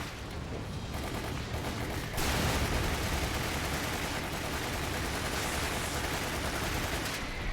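Sustained submachine gun fire in Resident Evil: Umbrella Chronicles, a loud continuous rapid burst that rattles on without pause and grows denser partway through.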